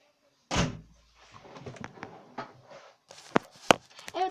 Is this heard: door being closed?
yes